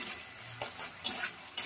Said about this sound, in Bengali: যতক্ষণ মশলা থেকে তেল না ছাড়ছে ততক্ষণ কষাবো। মাঝে মাঝে নেড়ে দিতে হবে